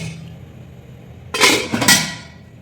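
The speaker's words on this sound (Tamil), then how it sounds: "மூடியாக போட்டுடலாம்." A metal lid clanks down onto a cooking pot of fish curry in a village kitchen, two close, bright clattering hits about half a second apart after a quiet start, ringing briefly.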